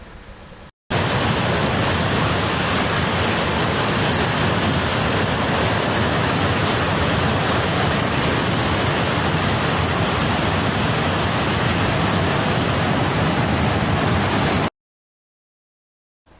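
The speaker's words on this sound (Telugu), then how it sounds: "నదిలో ప్రవాహం ఉధృతంగా ఉంది." Loud, steady broadband roar of a fast-flowing Himalayan river near Rudraprayag, Uttarakhand, constant and close for the whole stretch before cutting off near the end.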